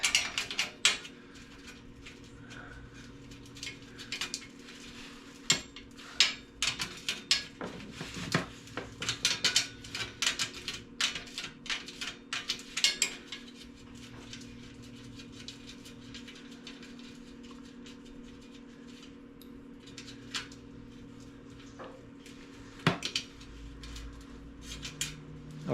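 A bolt being worked off the fender of a 1970 Schwinn Collegiate bicycle, with scattered metallic clicks and ratcheting taps, close and intermittent over a quiet background.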